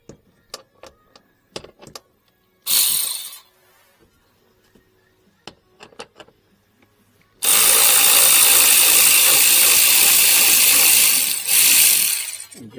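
A power tool spins out the last screw holding a Toyota RAV4 Prime cover, a brief burst followed later by a long steady whir, between scattered metallic clicks and handling clatter close by.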